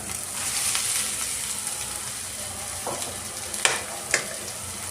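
Cut potatoes fry in a pan with green chillies, giving a steady, close sizzle with a few sharper crackles and spatters near the end.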